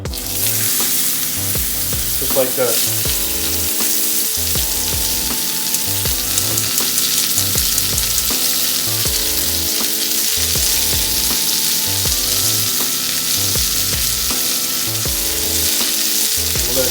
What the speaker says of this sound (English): What you want to hear is a nice sizzle as soon as you put them in.